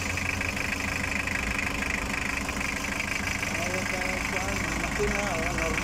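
Toyota 2L diesel engine, just back from a top overhaul after overheating, idles with a steady, close knocking rumble as someone talks over it.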